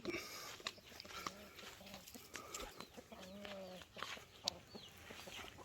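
Rhode Island Red hens cluck and murmur nearby in short, uneven bursts, with a few sharper calls mixed in over a low background.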